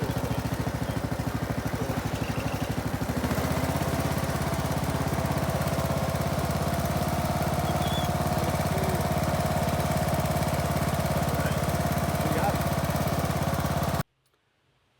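A lawn tractor engine runs steadily and close, a continuous loud mechanical drone with a rhythmic knock, shifting slightly in tone a few seconds in, then cutting off abruptly near the end.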